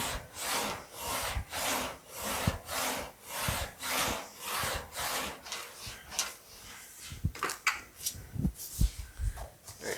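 Excess metal is cut away from a hand-shaped front fender for a 1940 Ford Coupe-inspired build, a close rhythmic back-and-forth rasp of about a dozen even strokes, then a few irregular knocks and scrapes.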